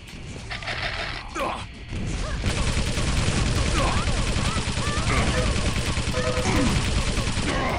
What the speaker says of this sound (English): Am I getting shot from 16 directions there or something?